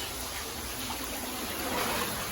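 Floodwater runs through a rain-flooded housing society in Vadodara, a steady, soft rushing and trickling wash that holds even and unbroken from start to end.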